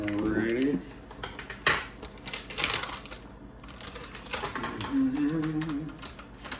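A knife works through smoked salmon on a board, irregular clicks and taps of the blade against the surface, close up, with a person speaking briefly at the start and again near the end.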